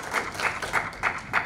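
Steady, rhythmic group clapping welcoming a speaker at a Korean political party meeting in Gyeonggi, with close, even beats repeating about every third of a second.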